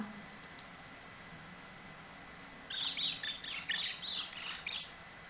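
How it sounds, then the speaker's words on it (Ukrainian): After a quiet stretch, a rapid series of about eight high-pitched squeaks comes in a steady rhythm, close and clear, like a small mouse. "Так, це мишеня."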